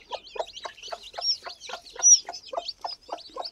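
Hen on a nest among chicks making a rapid series of short, soft clucks, about a dozen evenly spaced calls, close and fairly quiet.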